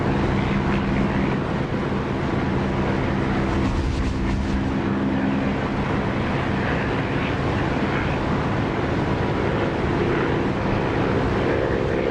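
Warplane engine roar in a flight-sim video game with the canopy open, a loud, constant droning rumble mixed with wind rush, steady throughout without any break.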